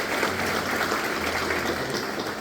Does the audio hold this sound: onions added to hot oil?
no